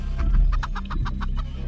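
A chicken clucks in a video game, giving a quick run of about eight sharp, evenly spaced clucks over a low background hum.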